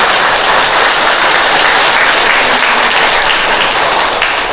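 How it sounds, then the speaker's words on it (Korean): Audience applause at a volunteer group's founding ceremony, dense continuous clapping from a large crowd, loud and sustained with no gaps. "함께 심찬 박수로 응원하겠습니다."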